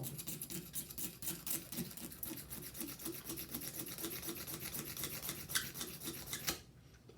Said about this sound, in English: I'm starting to scrape the edges, and this razor blade is flat